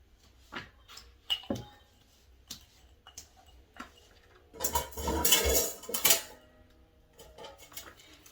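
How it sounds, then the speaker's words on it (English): Metal spoon scooping packed brown sugar into a bowl of sriracha sauce, giving scattered clinks and taps against the bowl and a brief denser run of scraping in the middle. "we are going to add 2 tablespoons of brown sugar packed."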